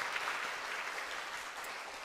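A church congregation applauds during a Korean Sunday worship service, producing a steady wash of clapping throughout, with no voices over it.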